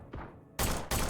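Two sharp gunshot blasts from a weapon in the video game Forgive Me Father 2, loud and close, the second following about a third of a second after the first, with no talk over them.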